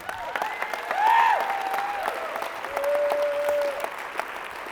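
Audience applause at a keynote for insurance agents: a spread of clapping hands that holds steady for about four seconds, with a couple of bright whoops or whistles riding above it.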